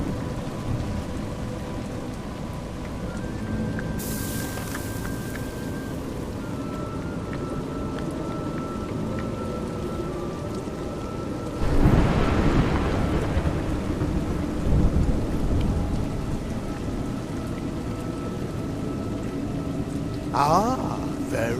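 Steady rain and rumbling thunder in the video game A Juggler's Tale, with a loud thunder crash about halfway through and the downpour continuing under it.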